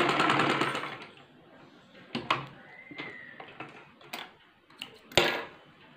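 Sewing machine stitching a two-panel salwar along a marked seam, heard as short rattling runs with pauses between them, fairly close and moderately loud.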